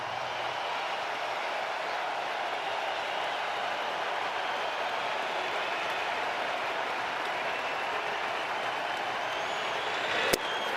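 A crowd at a Tigers vs Guardians ALDS Game 5 baseball game roars in a steady, broad, distant-sounding wash of cheering that holds evenly throughout, with a brief sharp click near the end.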